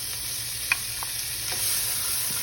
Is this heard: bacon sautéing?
yes